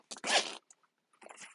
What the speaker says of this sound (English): We got this one zipper right here,